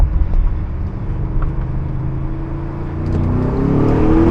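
An Audi SQ7 SUV pulls hard from a second-gear roll, its engine droning loudly and rising steadily in pitch as it accelerates, heard from inside the vehicle without talk.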